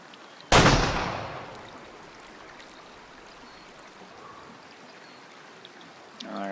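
A single loud rifle shot cracks out in the Way of the Hunter game, a sharp broadband blast that rings into a long fading tail over quiet outdoor ambience, with a faint voice stirring near the end.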